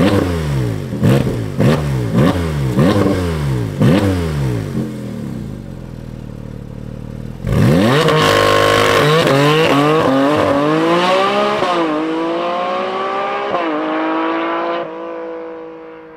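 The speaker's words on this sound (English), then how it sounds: "Let's fire it up and hear the sound of that titanium exhaust." A 2024 Porsche Cayman GT4 RS with a titanium exhaust blips its engine in a series of sharp, rising revs, then pauses and lets out one long, loud climbing rev that fades away, close by, with no talking.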